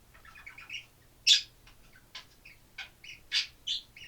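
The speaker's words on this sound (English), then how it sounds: "Oh, those birds. Those birds are cute." Several small birds chirp and tweet in short, bright bursts with brief gaps, fairly close and moderately loud against a quiet indoor background.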